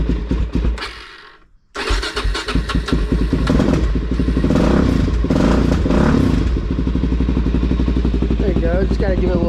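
A Suzuki DRZ400SM motorcycle engine catches after a brief gap and settles into a loud, steady close-up idle with throttle blips while it warms up, a mechanical clatter running beneath the exhaust.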